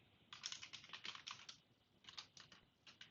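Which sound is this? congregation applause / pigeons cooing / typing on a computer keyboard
typing on a computer keyboard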